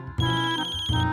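A telephone ringtone sounds close and loud, a bright electronic tone pattern holding steady across the moment, with no voices.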